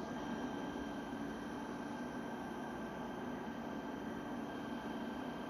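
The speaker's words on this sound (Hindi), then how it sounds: "यही रूट से हम ट्रेन को डिपार्ट होते हुए देखेंगे" Simulated Indian passenger train pulling out of a station on the Jammu Tawi–Pathankot route in winter, a steady continuous rumble of rolling wheels and engine with a faint high tonal whine, no voices.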